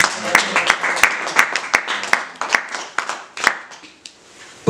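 A church congregation applauding, dense clapping with sharp individual claps standing out, fading toward the end, with a voice briefly mixed in.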